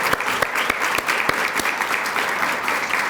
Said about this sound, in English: We can clap to that.